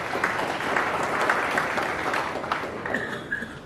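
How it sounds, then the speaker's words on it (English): An awards ceremony crowd applauds a sponsor with steady, moderately loud clapping that holds for several seconds before thinning slightly, and a faint voice comes in near the end. "Kindly give them a round of applause."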